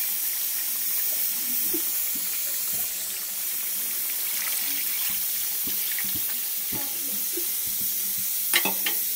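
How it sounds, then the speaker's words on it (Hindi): Water is poured into chicken frying in an iron kadhai, setting off a steady hiss and sizzle with faint stirring clinks and a few sharper pops near the end. "अब मैं इसमें पानी डाल रही हूँ।"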